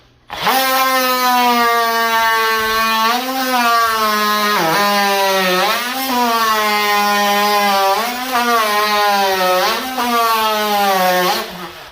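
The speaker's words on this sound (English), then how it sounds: "you're not supposed to mechanically grind it, but in this case, I'm gonna" A power tool grinds old asbestos floor material in an old home, a loud, continuous close-up whine with a steady pitch that dips and surges repeatedly as the tool bites and eases, with no speech.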